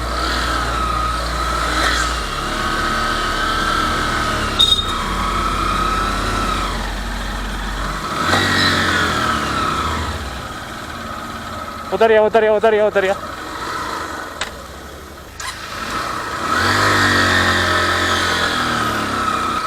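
A two-wheeler engine straining up a steep mountain road in second gear, a loud labouring drone that rises and falls with bursts of revving, heard under talking voices.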